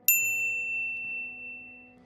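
A single bright notification bell ding strikes once, then a clear metallic tone fades out slowly over about two seconds, with a quiet hum beneath it.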